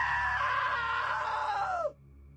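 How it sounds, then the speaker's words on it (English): A woman's loud, sustained scream in the video game What Remains of Edith Finch lasts about two seconds and cuts off abruptly, leaving a faint background hum. "Now that was a great scream."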